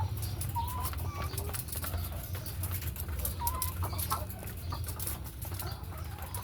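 Laying hens clucking on a poultry farm amid a constant loud hum of farm machinery, with scattered short calls from many birds.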